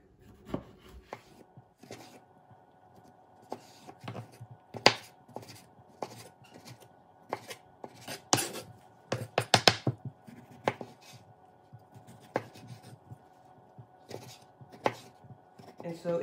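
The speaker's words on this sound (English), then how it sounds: "And you just slice them really finely." A kitchen knife finely slicing vegetables on a cutting board for guacamole, making quick crisp taps and chops in irregular bursts, close and clear, with a few quiet moments of talk mixed in.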